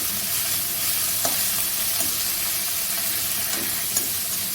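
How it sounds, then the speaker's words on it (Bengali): Kharkol leaf paste mixture frying in a pan until dry, an even close sizzle with occasional scrapes and taps of the stirring spoon, no speech. "একটু ভালো করে ভাজতে হবে শুকনো শুকনো করে।"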